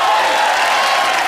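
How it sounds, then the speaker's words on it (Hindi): A studio audience at a comedy show applauding and cheering, a dense, loud wash of clapping that fills the whole moment. "तालियां।"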